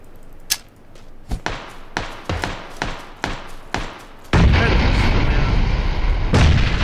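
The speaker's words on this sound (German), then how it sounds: "Meine Granate hat genockt und seinen Wagen explodieren lassen" A grenade blows up a car in PUBG with a sudden heavy blast that gives way to a sustained loud roar, following a run of sharp gunshots and thuds.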